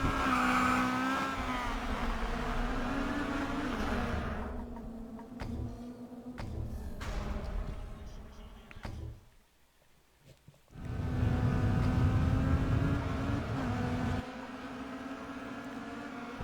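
Race cars in GRID Autosport at the Red Bull Ring, a dense pack of engines whining and droning loudly with shifting pitch, dropping away briefly to near quiet before the roaring field sweeps back in.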